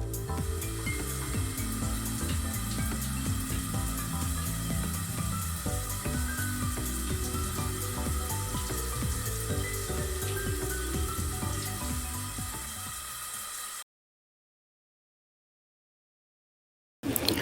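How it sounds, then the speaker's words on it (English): A pot of water with tomatoes in it boils steadily, giving a continuous dense bubbling and rushing that fades slightly before cutting out, then briefly returns at the end. Close, with no talking. "I put the tomatoes in here and it's boiling"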